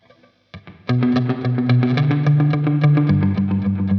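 Guitar run through a Mad Professor Kosmos pedal with slapback delay turned all the way up, dense chords repeating and smearing into strong doubled echoes over a wash of reverb after a brief quiet start.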